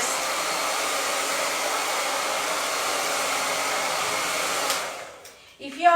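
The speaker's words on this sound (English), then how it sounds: "you can just use the hairdryer and dry it off" A hair dryer blows steadily and loudly for about five seconds while drying hair product, then cuts off abruptly, leaving a brief rustle and a faint click at the end.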